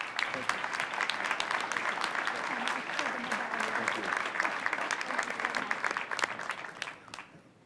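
Applause for the mayor at a Wentworth Institute of Technology commencement ceremony, a sustained round of crowd clapping with a few voices mixed in, thinning out and fading over the last second.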